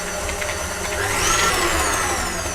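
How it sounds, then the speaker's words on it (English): A stand mixer with a whisk attachment beating butter, sugar, vanilla and eggs for a tres leches cake: a continuous close motor whir with a faint rising whine partway through. "Into a mixing bowl with the whisk attachment, add the sugar and the butter. Mix this, adding a bit of vanilla into that."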